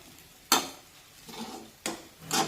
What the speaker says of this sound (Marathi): अशा पद्धतीने आपल्याला हे सर्व मिश्रण हलवून घ्यायचं आहे